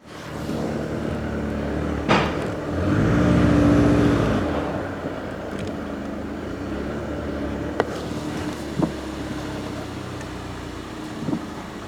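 A car drives up low-entry ramps onto a Twin Busch TWS3-10E lift in a home garage, its engine rising in a brief steady push before settling into quiet garage ambience with a few faint clanks.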